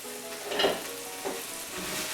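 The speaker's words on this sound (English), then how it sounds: "hot pan, I'm gonna add my mushrooms in to get them all browned off." Mushrooms frying and browning in a hot pan, a steady close sizzle with a brief louder crackle as they settle, no talk.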